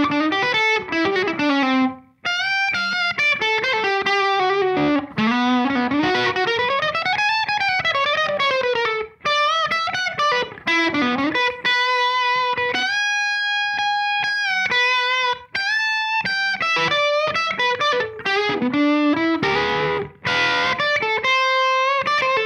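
An electric guitar played through a Vertex boost pedal on a pedalboard rings out with warm, driven melodic lines and sustained chords, loud and continuous without talk.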